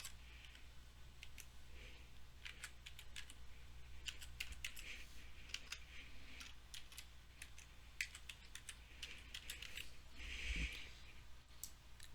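Fingers tap out a password on a computer keyboard in quick, irregular bursts of light clicks over a faint steady room hum, with no one talking.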